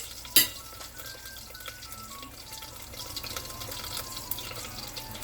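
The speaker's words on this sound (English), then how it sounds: "Let them saute for some time until they're golden brown" Pressed onions sautéing in a pan with a soft, steady sizzle, a sharp clink of a utensil near the start and faint scraping, with no talking.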